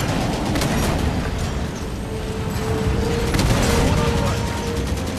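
Halo 5: Guardians battle with dense, continuous gunfire and mechanical rumble, loud and unbroken, scattered impacts and booms layered through the din.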